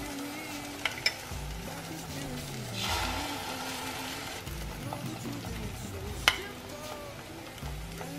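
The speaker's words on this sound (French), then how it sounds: "je vais donc ajouter à l'intérieur de mes trous en fait mon omelette aux champignons" Mushroom omelette mixture poured into holes cut in bread slices frying in a pan, giving a steady soft sizzle with occasional clinks of utensils, no talk.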